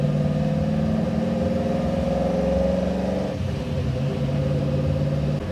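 1967 Ford Mustang fastback with Black Widow exhaust rumbling loudly as it drives, a steady throaty engine drone that shifts pitch around midway and keeps going, with no talking.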